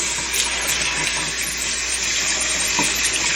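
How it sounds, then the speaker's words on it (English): Tap water runs in a strong, continuous gush over soft white cheese in a kitchen to rinse away vinegar, a loud steady splashing stream with no pauses or voices. "And I have to sprinkle little water here"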